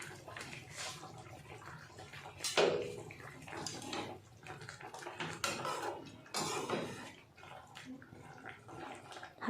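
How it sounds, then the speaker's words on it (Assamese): A ladle stirs a magur fish curry in a pot, making soft scraping, clinking and wet sloshing sounds in uneven bursts, quiet and close with no talking. "হাতাখনত লৰাই দিছোঁ।"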